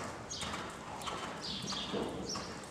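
A horse galloping in an outdoor riding lesson, its hoofbeats a steady, moderately close clip-clop over a faint background hiss, with no talking.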